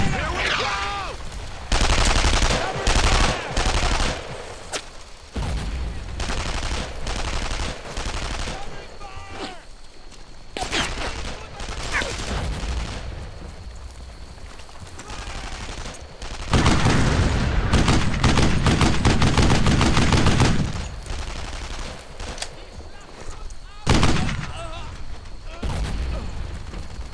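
Gunfire and mortar blasts in the World War II shooter game Brothers in Arms: Earned in Blood, dense bursts of rifle and machine-gun fire with heavy booms, loud and continuous, with soldiers shouting over the battle.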